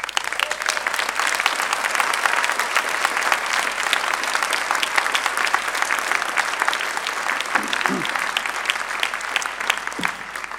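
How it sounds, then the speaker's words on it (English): A graduation audience at a university ceremony breaks into sustained applause for families and friends, many hands clapping densely and evenly throughout, loud and close, with no voices over it. "a round of applause for the families and friends"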